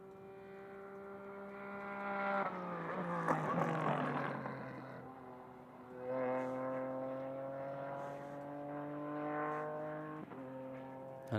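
A GT race car at Motorland Aragon brakes hard into the turn 16 hairpin, engine note dropping through downshifts, then picks up again and drones steadily out of the corner, heard from a moderate distance.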